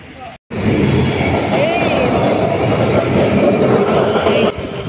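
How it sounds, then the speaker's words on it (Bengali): A Kolkata tram runs along its street track in South Kolkata, a steady loud rumble and clatter of wheels on rail with a brief squeal, heard close by amid general street noise after a short silent gap. "আমাদের কলকাতায় এই রুটে এখনও ট্রাম চলাচল করে।"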